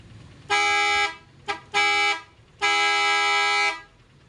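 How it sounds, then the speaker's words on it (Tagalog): An eight-tone car horn sounds three times: a short honk, a quick double tap, then a longer sustained blast, loud and close with no talking. "Yan yung number one, yung normal horn lang."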